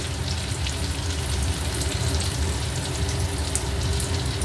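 Chicken fries with Kashmiri chilli powder for chilli chicken, a continuous close rain-like sizzle and crackle that holds steady throughout with occasional light stirring, and no one speaking.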